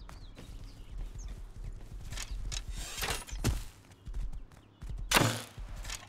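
Horse hooves clopping in the survival game Rust, irregular thudding steps near and moderately loud, with several sharper impact bursts along the way.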